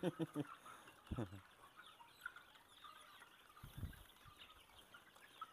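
Chickens and roosters, among them a frizzle-feathered rooster, cluck and call while being fed at a village farm. The calls come in short bursts, with a louder cluster near the start and softer clucks later.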